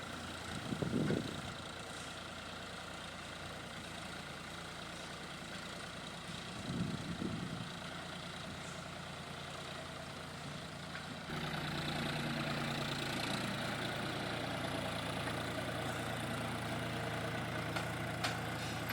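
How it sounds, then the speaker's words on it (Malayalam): Tractor engine running steadily while ploughing a banana plantation field, a continuous low drone that grows slightly louder and rougher partway through. "വീണ്ടും ഇതാ ട്രാക്ടർ ഇട്ടിട്ട് ഒന്നും കൂടെ ഒന്ന് ഉഴുതു മറിക്കുക"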